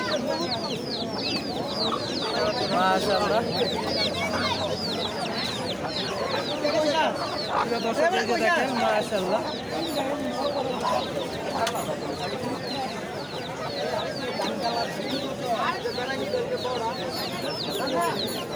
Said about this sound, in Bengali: এই মুরগির সাথে বাচ্চাও আছে